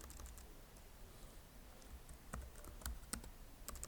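Rapid typing on a computer keyboard during web coding work, a quiet stream of close key clicks with a few sharper presses and no talking.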